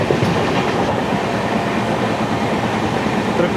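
The 20924 Gandhidham–Tirunelveli Humsafar Express runs at speed, filling the recording with a loud, constant rumbling roar and faint clickety-clack of wheels on rail, heard from inside the carriage without talk.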